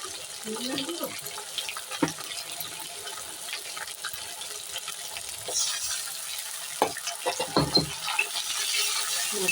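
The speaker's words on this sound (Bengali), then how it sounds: "মশলার বাটিটা দিয়ে একটুখানি জল দিয়ে দিলাম" Water splashes into a spice bowl and pours into frying onion and spice paste for ghugni, giving an irregular watery sizzle with clinks and bursts of louder splashing, fairly close, with no speech.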